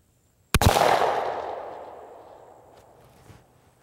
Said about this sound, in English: And I'm going to shoot here so the target will drift into my pattern.